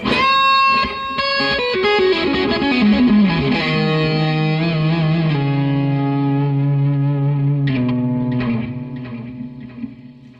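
Distorted electric guitar with a humbucker pickup through a Providence Chrono Delay DLY-4 pedal, notes ringing out with repeating delay echoes and a wash of reverb, loud and alone, slowly decaying before a final struck chord.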